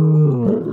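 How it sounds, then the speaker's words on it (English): A lion roars and growls in one deep, loud, close call that sags in pitch and trails off within a second. "Tao starts growling and howling, going on and on"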